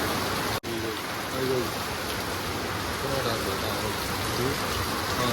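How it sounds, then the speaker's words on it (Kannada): Steady rain pours down in a dense, even hiss, with faint voices murmuring underneath. "ಮಳೆ ಕಮ್ಮಿ ಆಗಲಿ ಮಳೆ ಸೌಂಡ್ ಬರ್ತದ"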